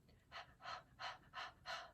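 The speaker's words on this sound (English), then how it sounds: "when you exhale, do it with several quick breaths" Five quick, forceful exhaled breaths in a clinical nursing breathing exercise, evenly spaced and close to the mic, each a short airy puff with brief quiet gaps between.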